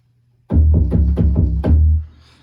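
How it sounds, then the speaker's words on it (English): On an Akai Force, a deep synth bass patch called a simple thump plays a short run of loud, booming low notes with punchy attacks, then stops abruptly and leaves near-silence. "Simple thump."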